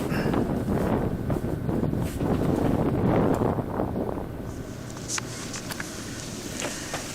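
Strong wind buffets the microphone in a steady low rumble, easing somewhat toward the end with a few faint rustles.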